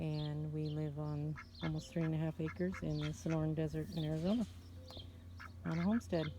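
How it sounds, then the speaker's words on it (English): Ducks on a homestead in Arizona's Sonoran Desert quack in the background while someone talks, the calls rising briefly between her phrases. "you can hear some of my ducks in the background"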